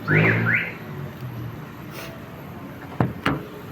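A 2020 Toyota Vios XE's installed car alarm gives two quick rising electronic lock chirps, followed by a couple of faint clicks in a quiet setting.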